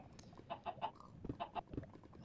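Several chickens in a Minecraft-style game cluck in short, rapid bursts that come in two quick clusters, fairly faint and close, with no talking over them.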